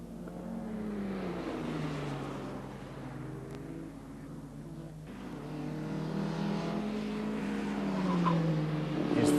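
A BMW race car passes on the Anglesey circuit during a classic sports car race, its engine note rising and falling as it goes by at moderate distance, with other cars droning in the background.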